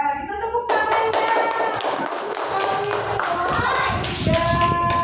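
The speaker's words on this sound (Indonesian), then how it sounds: "Ya, kita tepuk tangannya." A class of primary school children claps hands together in a dense, steady burst of rapid claps lasting several seconds, loud and close, with a teacher's voice speaking over the start.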